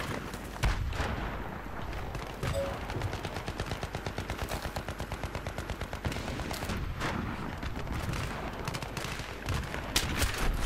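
Battlefield 3 gunfire on the Wake Island map, a sniper rifle among it, with rapid, regularly spaced shots rattling almost continuously through dense battle noise.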